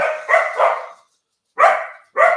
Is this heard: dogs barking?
yes